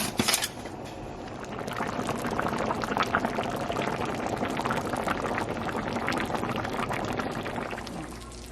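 A pot of seasoned rice with ackee, saltfish, pig tail and shrimp boils and steams, a steady bubbling hiss close by that begins with a brief louder splash.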